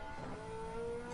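Ferrari engine in the video game Gran Turismo 7, a steady high revving whine held for a brief moment at fairly low level.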